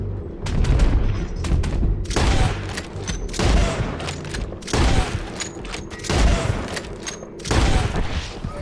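Gunshots ring out in Red Dead Redemption 2 during a mounted chase after a fleeing man, with roughly eight loud, booming reports at uneven intervals. Continuous hoof-and-action noise fills the gaps between the shots.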